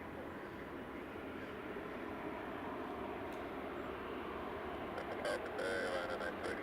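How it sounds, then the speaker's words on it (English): An Air Canada Boeing 787 Dreamliner lines up on runway 24 at Edinburgh Airport, its engines a low, steady distant rumble under wind, with a voice talking over it. "Air Canada 787 Dreamliner just lining up now on 25"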